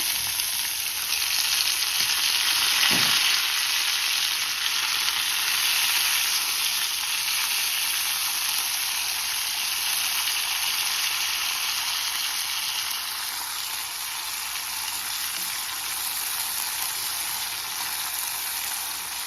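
Snack frying in a pan of hot oil, a steady bright sizzle running throughout with a brief stir or drop early on, close and even in loudness.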